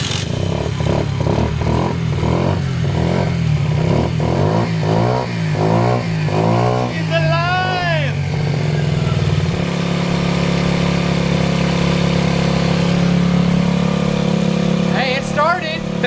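A 50cc engine, freshly carburetor-tuned, idles loudly and close by with a steady drone, then revs in a few rising bursts before settling back to a smooth idle, while people talk over it.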